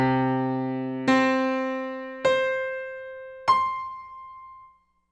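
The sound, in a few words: octaves played one note after another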